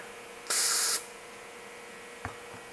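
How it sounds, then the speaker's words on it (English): A single burst of cleaner from a spray can hisses for about half a second, loud and close, onto gun parts, followed by a faint knock in a quiet room. "Go ahead and spray this off."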